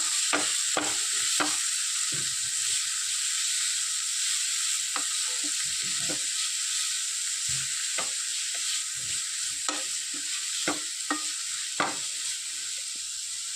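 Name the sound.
stirring bitter gourd in a frying pan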